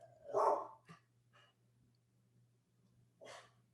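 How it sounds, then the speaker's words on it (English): A dog lets out one odd, breathy bark, then a short faint follow-up and another bark a few seconds later, close by against a quiet room with a low steady hum. "That was a weird bark from her."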